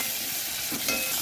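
Chillies frying in a pan for beetroot pachadi, a steady close sizzle with light stirring throughout, no voices.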